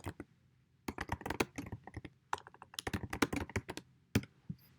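Quick bursts of typing on a computer keyboard, close and fairly quiet, with dense clusters of key clicks separated by short pauses and no talking.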